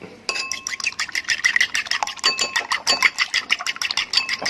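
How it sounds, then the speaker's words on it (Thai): Rapid, steady clinking of a utensil against a bowl while beating eggs, a brisk beating rhythm that continues throughout, close and fairly loud. "ตีไข่ครับตอนนี้ครับ"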